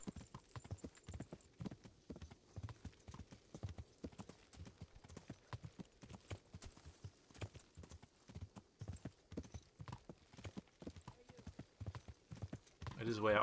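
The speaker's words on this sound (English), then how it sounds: "By sprinting or galloping there on a very colourful horse." A horse gallops with rapid, steady clip-clop hoofbeats in the medieval game Kingdom Come: Deliverance, loud and continuous throughout, with a brief neigh-like flourish near the end.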